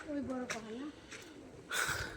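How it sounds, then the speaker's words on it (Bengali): Soft pigeon coos rise and fall in the foreground on a hillside beside a road cut, followed by a brief burst of higher bird chatter, with faint background noise. "পাহাড়ের গায়ে কবুতর খাবারের জন্য কেমন করে কাছে চলে আসে।"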